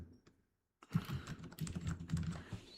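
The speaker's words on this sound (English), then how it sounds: "Here, let me type it in the chat." Quick keyboard typing, a steady run of close, crisp keystrokes after a brief quiet pause, nearly alone with no talk.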